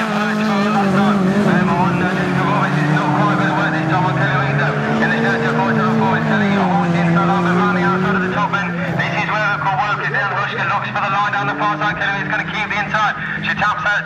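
Stock hatch race cars in a ladies' final lap a circuit, engines droning and shifting pitch steadily throughout, with a commentator talking continuously over the racing.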